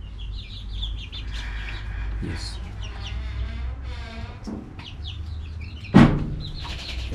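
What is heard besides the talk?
flock of about 50 chickens clucking in a coop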